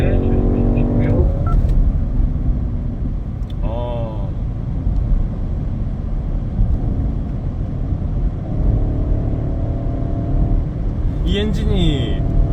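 A BMW X5 M60i engine pulls under acceleration on a driving-centre track, its deep rumble rising and falling through gear changes with brief tyre or turbo whooshes near the end.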